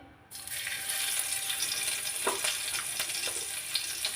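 Minced garlic sizzling in hot mustard oil in a pan over a stove, with a sudden onset of loud, steady frying crackle and occasional spatters.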